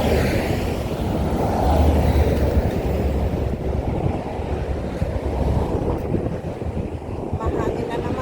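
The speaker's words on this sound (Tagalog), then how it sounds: "Kaya pasensya na sa mahangin guys na sound." Strong seaside wind buffets the microphone in a constant low rumbling roar, with a faint wash of surf underneath and brief voices mixed in.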